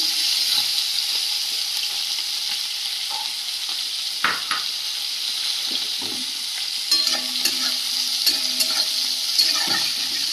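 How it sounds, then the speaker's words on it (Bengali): Shrimp frying lightly in a pan with onion, salt and turmeric: a steady close sizzle with occasional clinks and stirring scrapes, no talking. "চিংড়ি মাছটা বেশি ভাজবো না বেশি ভাজলে শক্ত হয়ে যায় হালকা ভেজে নেবো"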